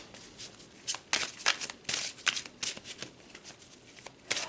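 Tarot cards are shuffled and pulled from the deck in a close, soft series of riffling swishes and flicks, irregular bursts over a few seconds.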